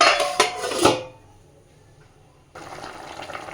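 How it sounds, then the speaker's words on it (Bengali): A lid clatters onto a cooking pot of simmering egg curry with potato and cauliflower, with a loud metallic rattle in the first second, then near silence before a steady low simmering hiss sets in. "এবার ঢাকা দিয়ে দিচ্ছি"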